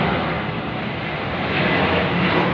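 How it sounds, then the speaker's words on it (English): An airplane flies overhead with a steady, broad roaring rumble that fills the whole stretch, loud and constant without any talk. "So the plane going over, and I am nearly finished here."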